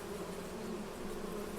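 Bees buzz continuously at a farm property in Farming Simulator 25, a steady, even drone of many insects at moderate distance with no voices over it.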